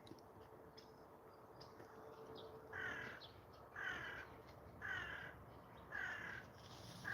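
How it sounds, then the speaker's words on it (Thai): Crows cawing in a vegetable garden among old sunflowers: four evenly spaced, moderately distant caws over a constant outdoor background hum. "กา ก็มีนะคะ"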